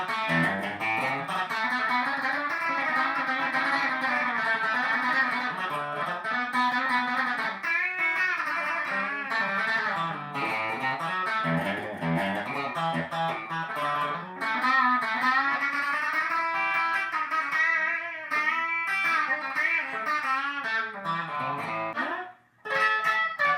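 A Vola JZ FRO electric guitar played in a country style through effects, with a continuous run of bright melodic lines and bends, fairly loud and close, ending briefly near the end.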